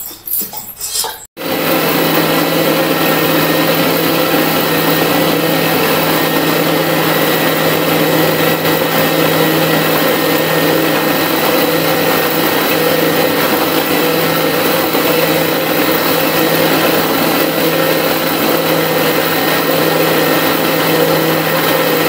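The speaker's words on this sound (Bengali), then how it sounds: "গরম মশলা ডাইলে এই সব ডাইলে একবারে পিষে নেব।" An electric mixer grinder runs loud and steady, grinding garam masala and other spices for a village-style chicken kosha, a continuous whirring drone that starts abruptly after a short quiet moment.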